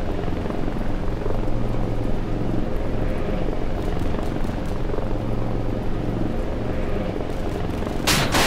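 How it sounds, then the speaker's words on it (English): A helicopter takes off from a warship in the naval combat game Modern Warships, giving a steady, loud rotor and engine drone that holds throughout, with a brief sharp hiss near the end. "Helicopter taking off"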